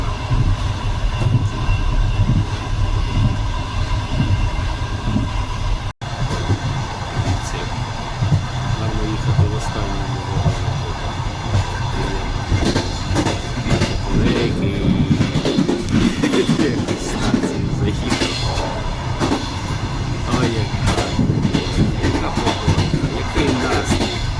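Passenger train rolling along the line from Kharkiv toward Poltava, heard continuously from an open carriage window: steady loud rumble with rhythmic clickety-clack of wheels over rail joints, brief dropout near six seconds, no speech.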